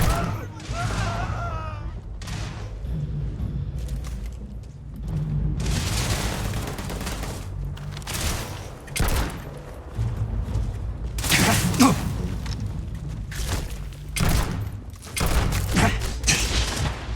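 Repeated bursts of gunfire in the sci-fi shooter Starfield during a fight, with loud volleys and booms recurring across the clip over a low game hum, and a voice talking in between.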